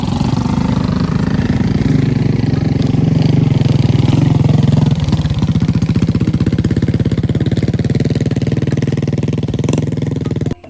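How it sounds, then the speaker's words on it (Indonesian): A modified motorbike engine in a pine forest, a loud close rumble that revs hard for about five seconds and then settles into a rapid, rough, pulsing idle before cutting off abruptly, with no talking. "Dan motor pun itu udah dimodifikasi"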